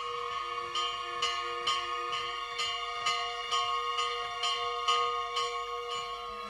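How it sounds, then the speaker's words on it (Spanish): A church bell strikes in a steady, repeated rhythm, each ring clear and resonant over a faint low rumble, with no voices. "¿No oye la campana?"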